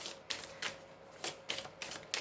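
Oracle des miroirs cards riffled in a brisk shuffle, producing five or six crisp, papery bursts at an uneven rhythm over a faint steady hum, close by and fairly quiet with no talking.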